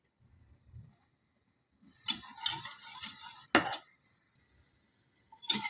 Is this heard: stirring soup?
yes